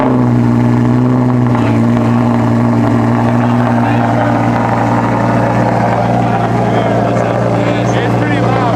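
Lamborghini Huracan LP610-4 engine firing up and idling loud and close, a deep steady droning rumble that swells as revs rise, with people talking over it.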